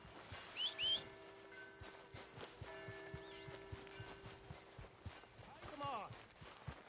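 Horse hooves clip-clop at a walk in the video game Red Dead Redemption 2, a steady, moderately close rhythm under talking voices and faint birdsong.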